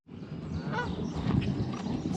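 Geese honking at a lakeside campsite, a cluster of loud, nasal honks overlapping close by, continuing steadily with no talking.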